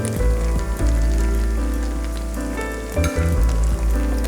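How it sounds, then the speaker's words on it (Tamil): Pieces of idli deep-frying in hot oil, a loud continuous close-up crackle and sizzle with a low rumbling bed and a few brief clinks, no speech. "இப்போ நம்ம பார்க்கலாம் இட்லி பொரிஞ்சிட்ருக்கு"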